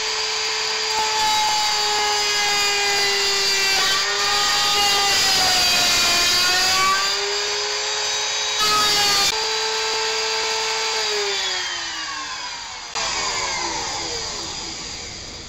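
A wood router making a power plunge cut, its motor a loud high steady whine with pitch dips as the bit bites into the wood, continuous and close for about fifteen seconds with no talk.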